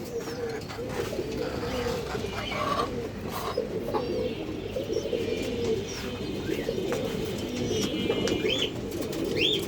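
Pigeons cooing steadily in an indoor loft at a farm, a dense continuous chorus of low throaty coos with occasional brief chirps, close and moderately loud with no clear talk.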